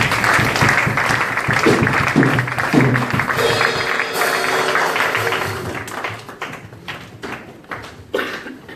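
A church congregation applauds the Lord with a crowd of hands clapping steadily and loudly, mixed with taps and thumps and a brief sustained tone partway through, before the clapping breaks into scattered, uneven claps toward the end.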